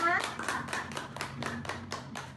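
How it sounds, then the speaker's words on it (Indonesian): Small audience at an Indonesian community outreach session claps in a short, rhythmic burst of about eight distinct hand claps, with a voice audible at the very start. "Beri tepuk tangan untuk kita semua"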